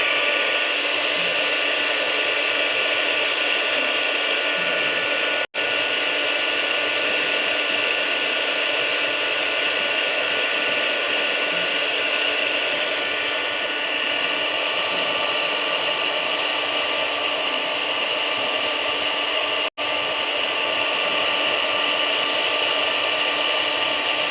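A hair dryer blows steadily on a watercolor painting, a loud, even close-up whoosh that runs almost unbroken, with two brief cuts in the sound.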